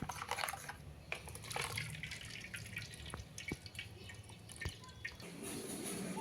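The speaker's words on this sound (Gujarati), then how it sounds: "હવે આપણે આને આ રીતે ગાળી લઈશું પાણી નાખીને।" Water splashes and drips steadily as coriander and chili paste is strained with water for spicy pani puri water, a close, continuous trickle with scattered sharper drops.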